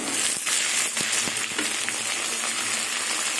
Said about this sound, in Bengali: এবার ঢেকে ঢেকে সবজিটা ভেজে নেব